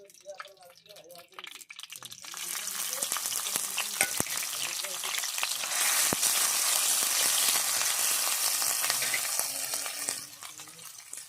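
Crushed garlic and fennel seeds dropped into a hot pan, breaking into a loud, sustained sizzle that swells and then eases, with brief talk at the start.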